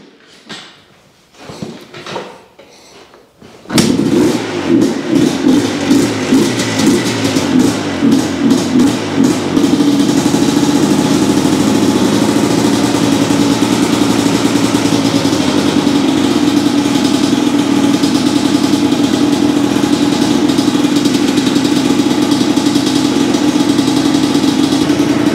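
A 1998 Yamaha Blaster two-stroke engine is kicked over with a few short bursts of effort, then catches and settles into a loud, steady, close-up idle that runs unbroken to the end with no voices.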